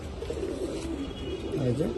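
Pigeons in a loft of domestic flying breeds coo in low, soft rolling phrases, repeated close by over a faint background hum.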